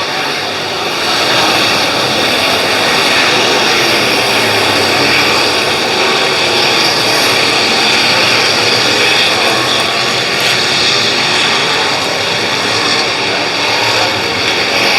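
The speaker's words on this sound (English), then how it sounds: "There goes the 36C of Preston Carr, your race leader" Pure stock race cars roar around a dirt oval track in an A-main race, a loud, continuous engine drone holding steady throughout with no speech.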